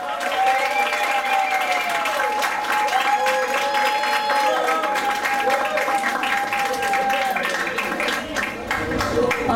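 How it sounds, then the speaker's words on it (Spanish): Audience applause at the Miss Panamerican International 2014 pageant, a dense, steady wash of clapping mixed with crowd cheering and voices that holds at full strength for the whole stretch. "A ver ese aplauso."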